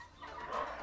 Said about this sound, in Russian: Курица даже есть у него.